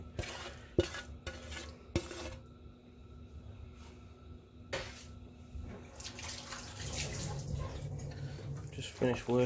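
Thick chicken, ham and leek pie filling being stirred and worked through its sauce, a wet spoon-scraping churn with sharp knocks against the bowl early, building into steady close mixing toward the end.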